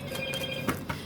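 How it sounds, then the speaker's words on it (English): A mobile phone rings briefly and faintly, with a short tonal ring pattern repeating twice within about a second. "Sorry about my phone going off"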